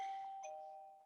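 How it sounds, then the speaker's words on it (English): Doorbell ringing at home, a single sustained electronic chime tone that fades gradually, faint and alone with no talking. "That's our doorbell."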